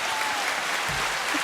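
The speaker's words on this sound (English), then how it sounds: "Hit the applause on that." Studio applause sound effect plays as a short, steady burst of dense clapping, loud and even throughout, with no voices over it.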